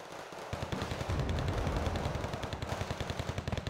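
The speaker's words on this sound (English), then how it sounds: "So the XA is just getting free shots with those machine guns." An XA armored personnel carrier's machine guns chatter in Wargame: Red Dragon, a fast, steady burst of rapid rounds that keeps pounding close and loud after a brief lull at the start.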